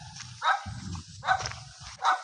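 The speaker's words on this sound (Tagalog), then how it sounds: "Hala, may aso." A dog barks three times in loud, separate yaps with low grunting and rustle between them, close by, with no talking.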